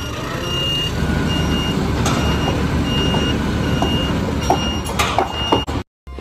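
Repeated reversing beeps from a toy crane truck, a steady series of tones over continuous mechanical hum, ending in a brief cut to silence.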